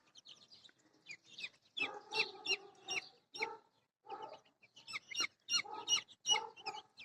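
Week-old chicks cluck and peep in bursts while scratching for insects outdoors in a village yard, a close, busy run of calls with brief pauses.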